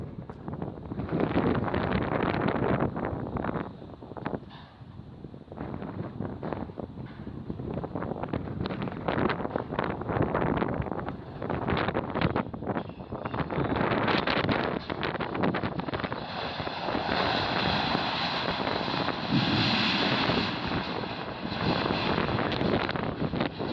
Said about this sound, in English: Then, the wind kicked up another notch.